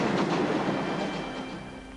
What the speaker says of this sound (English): The trains come past.